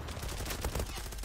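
Video game gunfire in the online shooter Zula, a quick burst of rapid shots packed into a second, loud and close, with busy game noise around it.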